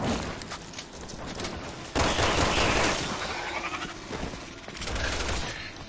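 Shotgun blasts boom in Resident Evil 6, several loud shots with one sharp burst standing out, mixed into noisy combat sounds with no clear talk.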